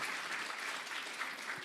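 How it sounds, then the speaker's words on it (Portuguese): An audience at a literary talk claps together for Lúcia, a dense, steady wash of applause heard at a distance and fairly faint. "Palmas para a Lúcia"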